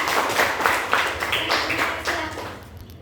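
A classroom of students claps for a group in a brisk, uneven burst of applause that stays lively, then thins and fades near the end.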